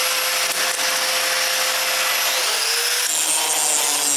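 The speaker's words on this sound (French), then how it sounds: "je vais y ajouter de la force en coupant une vieille lame de scie carrée" An old square saw blade is cut at a workbench, producing a loud, continuous harsh grinding whine that fills the whole stretch, with a slight shift in tone toward the end.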